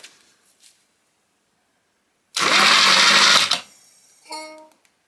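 A 1981 BMW R80 motorcycle's starter motor cranks in one loud burst of about a second, whirring and grinding, then a shorter, quieter click and whirr follows after a pause.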